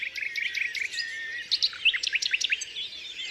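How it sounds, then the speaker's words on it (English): A nightingale sings from inside dense bramble, a rich, fast stream of clear whistles, trills and sharp chirps that run continuously and close by with no other voices. "that is the nightingale"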